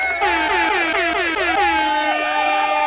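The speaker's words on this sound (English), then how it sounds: "Guess what you're about to get? An air horn." A loud air horn blares continuously for about three seconds, close and dominant, with its wavering tones bending during a livestream.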